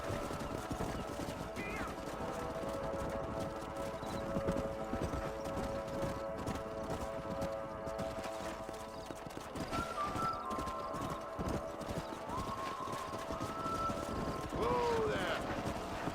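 Horses clip-clopping at a steady gait in the Western video game Red Dead Redemption, hooves thudding continuously under dense music and ambience, with a brief whinny and occasional voices over the riding.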